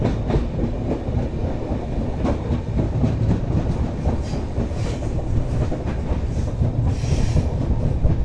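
The Mandovi Express rolls along the Konkan Railway with a loud, steady rumble and rhythmic clickety-clack of wheels, plus occasional faint squeals, heard from on board.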